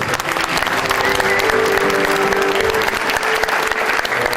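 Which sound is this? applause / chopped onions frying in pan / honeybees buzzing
applause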